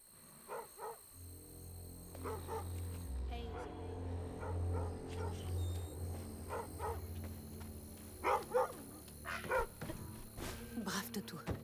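Dog in the video game South of Midnight giving a few short yips and barks, faint and intermittent, over quiet game ambience and occasional spoken lines.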